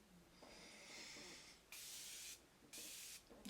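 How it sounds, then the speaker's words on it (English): Makeup setting spray misted onto a face, two steady hissing sprays, each lasting about half a second, close and fairly soft, after a quieter opening. "I'm just putting my setting spray on"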